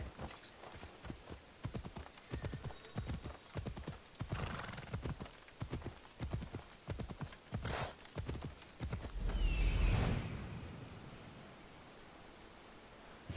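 Galloping horse hooves in Assassin's Creed Odyssey, a steady rapid clip-clop close up, broken near the middle by a loud whinny and snort before the hoofbeats settle back in.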